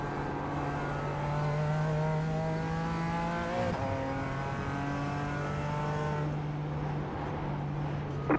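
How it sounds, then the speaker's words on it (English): A faster race car in iRacing at the Nurburgring 24 closes in from behind, its engine note rising steadily over the steady drone of a BMW M4 GT4, loud and continuous without speech. "Faster car coming up quick. Hear it."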